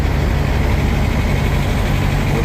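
A Peterbilt truck with stacks and a Detroit diesel engine idles close by, a loud, smooth, steady low rumble that holds constant throughout, with no talking.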